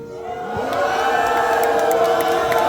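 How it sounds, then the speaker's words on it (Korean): A crowd of school students cheers and shouts together, swelling within the first half second and holding steady at a loud, excited level throughout, during a school quiz show. "학생분들의 함성 한번 들어보도록 하겠습니다. 소리 질러주세요."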